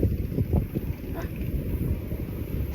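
Wind gusts buffet the microphone while walking outdoors in cool air near a sunset shore, a steady low rumble with rough bursts and no talk.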